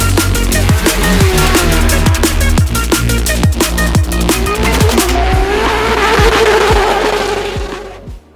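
Drift car tires squealing hard during open practice at a Drift Masters round, a loud continuous screech with rapid engine pulses throughout, fading away near the end.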